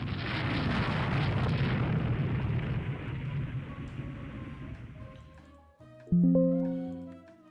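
Naval gunfire and shell explosions from the Rule the Waves 3 strategy game, a Qing China fleet battle: a long, loud rumbling barrage of blasts fades out, then a sharp new boom erupts near the end.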